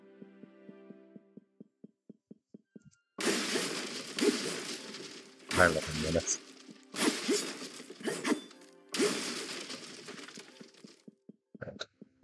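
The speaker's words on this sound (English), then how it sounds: "Instantly smashes vegetables." Vegetables are smashed in Astor: Blade of the Monolith with a series of loud, crunchy shattering bursts in irregular succession, preceded by soft rhythmic ticking, with brief speech mixed in.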